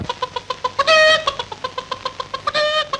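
Rapid repeated clucking from a chicken nearby, short sharp notes in a steady stream with two louder drawn-out squawks breaking through.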